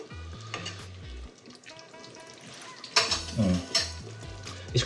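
Prawn linguine sauce being stirred in a hot pan, a steady sizzle with scraping and clinks of the utensil against the pan, growing busier partway through, with a voice briefly audible.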